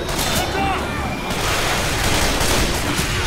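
Heavy gunfire in the game Left 4 Dead 2, Subway level, a continuous loud barrage of shots and blasts packed tightly together, close up, with voices mixed faintly into the din.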